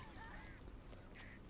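Honking, goose-like bird calls in the Back 4 Blood video game, a few short cries over about a second and a half, faint and set against low game ambience.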